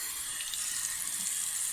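Water runs steadily from a tap into a sink, a continuous close hiss with no talk over it.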